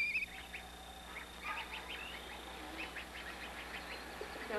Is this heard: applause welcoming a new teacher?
no